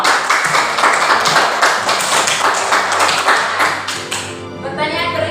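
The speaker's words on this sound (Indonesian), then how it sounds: "Kita beri tepuk tangan buat Prasio." Classroom applause for a student, a quick burst of many small hands clapping in a room that fades out after a few seconds.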